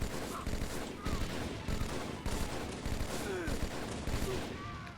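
Steady, fairly faint gunfire in a deathmatch video game, with repeated shots and short bursts in a regular rhythm and some faint voice-like tones mixed in.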